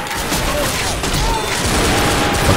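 Dense gunfire in the zombie shooter Left 4 Dead, a loud, steady barrage of overlapping shots and booms filling the whole stretch, with a faint voice buried beneath.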